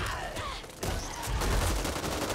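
Gunfire in the video game Back 4 Blood, a fast, loud, continuous rattle of shots across the whole moment.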